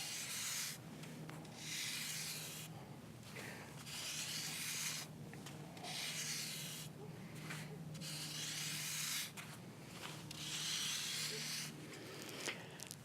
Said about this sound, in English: So let's just do what I've always enjoyed doing since I was a little boy, writing in the sand.